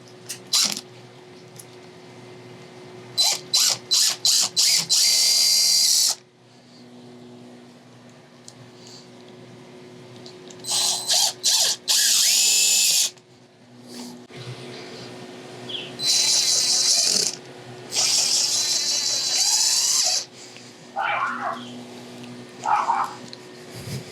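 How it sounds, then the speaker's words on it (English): A power drill drives screws into a raised garden bed frame in several loud whirring bursts of a few seconds each, separated by quiet pauses, close up with no talk. "The last step we're going to do is put our screws in. Time to install your screws."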